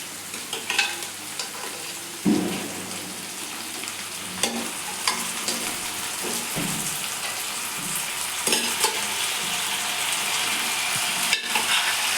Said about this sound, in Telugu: ఇది ఆయిల్లో కూడా కొంచెం ఒక 5 minutes వేగనివ్వాలి